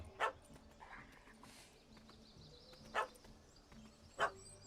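A puppy gives three short, sharp barks spaced a second or more apart, moderately close, over a quiet outdoor background with faint other sounds.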